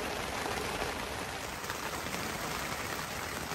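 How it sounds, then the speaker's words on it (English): Steady rain patters on an inflatable camping tent during a wet weekend, a dense, even hiss of drops on the fabric that stays loud and close throughout with no talking. "it's raining pretty good, but it's not raining all that bad."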